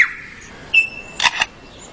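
A lyrebird in the forest mimics a camera shutter, giving a sharp electronic tone followed by two close, crisp clicks, loud and near against quiet forest ambience.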